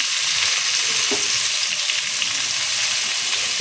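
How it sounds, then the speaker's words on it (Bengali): Pointed gourd and potato pieces fry together in hot oil with salt and turmeric, giving a steady, close, bright sizzle with occasional stirring and no talking. "তেল দিয়ে এখন পটলটা আর আলুটা একসঙ্গে আমি ভাজা করে নেব।"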